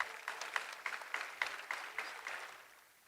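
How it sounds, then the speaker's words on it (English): Applause at an awards distribution ceremony, a short burst of clapping from an audience that thins out and fades after about two seconds, heard faintly from a distance. "May you please have a round of applause for them."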